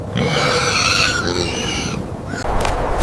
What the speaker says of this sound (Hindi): वो मजीद गुस्सा करने लगा और ऊंची आवाज में चीखा।